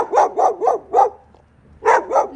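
A dog barks in two quick bursts, three or four sharp, loud barks close by, then a short pause and two more barks, with no talking over it.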